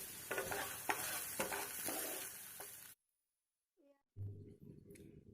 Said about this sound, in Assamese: ৰঙালাও গুটিখিনি ৰোষ্ট কৰি ল'ম। এয়া কেৰাহীত মই দি দিছোঁ।